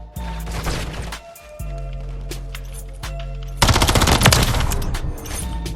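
Rapid bursts of automatic gunfire in a Call of Duty Black Ops 6 match, loud sharp volleys in several separate strings, with a heavier, denser burst near the end and no talk over it.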